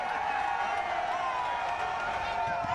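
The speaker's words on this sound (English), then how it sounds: "Cheers from the crowd, excited as they are" A crowd cheers and calls out excitedly during a presidential inspection of the Ofankor–Nsawam road works, a steady dense roar of voices and whoops sustained throughout at moderate distance.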